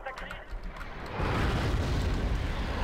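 Artillery shells exploding in the strategy game Wargame Airland Battle, a sustained roaring blast with a deep rumbling body that swells and holds, following a brief stretch of lighter battle noise.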